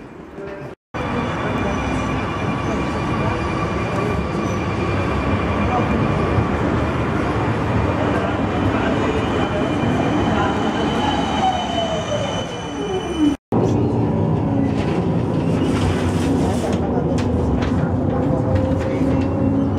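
Riding a tram in Amsterdam: a loud, continuous rumble of wheels on rails with a rising squeal of wheels on a curve, then the rattling car continues after a brief break.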